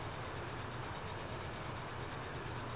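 Train in Transport Fever 2 passing under a bridge, a continuous broadband rolling rumble with faint clickety-clack, held at a steady, moderately quiet level throughout.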